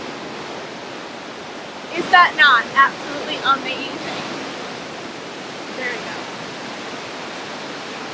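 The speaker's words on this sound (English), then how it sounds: "it is a beautiful, beautiful waterfall" Kepler Cascade waterfall in Yellowstone gives a steady, broad rushing roar that runs the whole time, with someone speaking briefly over it near the start.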